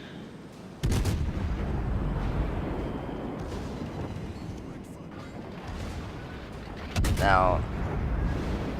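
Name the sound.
warship gunfire in the video game World of Warships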